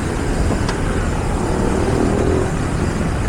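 Heavy road traffic with many vehicles passing close beside a bike lane, a dense, steady engine and tyre roar with wind rumble, heard from a moving bicycle.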